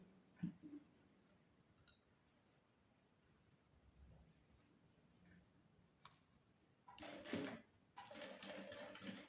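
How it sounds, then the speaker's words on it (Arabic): A sewing machine stitches the seam of an abaya, starting after a few quiet clicks and handling sounds, then running in two short close bursts toward the end. "غنخيط دابا هاد الجهه، نخيط هاد الجهه ونقلبها باش تشوفوا النتيجه"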